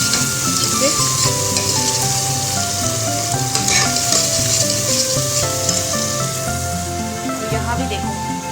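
Green peas roasting in oil with a cumin tempering sizzle and fry steadily and loudly in a pan, a dense continuous crackle with faint stirring and no talk.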